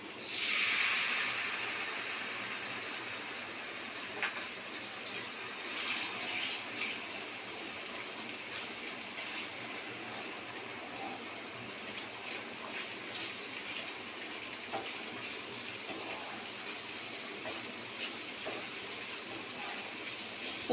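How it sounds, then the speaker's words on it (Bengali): Water running from a tap while a bowl used for ground poppy seeds is rinsed, a steady soft hiss of flow lasting throughout, fairly faint and even with small splashes. "পোস্তর বাটিটা ধুয়ে"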